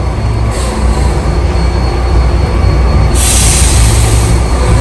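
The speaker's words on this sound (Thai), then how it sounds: "นี่ครับรถคันนี้แหละครับมาถึงแล้ว" A vehicle pulls up, heard as a loud, steady rumble with a harsh upper hiss that swells near the end; the sound is rail-like, with squealing and rolling noise and no talk.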